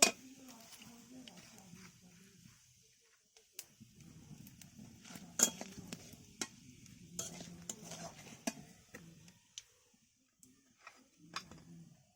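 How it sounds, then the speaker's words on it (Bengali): Panch phoron seeds and two bay leaves fry in oil in a wok with a soft, faint sizzle, punctuated by sharp scraping and clinking of a spoon stirring against the metal. "এবারে আমি কড়াইতে এক চামচ পাঁচফোড়ন দিয়ে দিলাম তার সঙ্গে দুটো তেজপাতা দিয়ে দিলাম"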